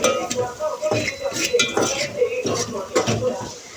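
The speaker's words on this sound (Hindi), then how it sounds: "अब इसमें चलाएंगे चम्मच।" A spoon scrapes and knocks against a pan while spices are mixed into browned onions, giving a run of close metallic clinks and scrapes over a soft sizzle, with a voice talking faintly underneath.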